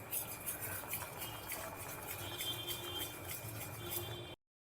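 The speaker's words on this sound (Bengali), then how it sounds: "এটাকে আরেকটুখানি ফেটিয়ে নিই" A puffed-up breakfast batter is whisked in a bowl, producing a fast, steady scraping and tapping rhythm of utensil against the dish, close and soft, continuing without pause before cutting off abruptly.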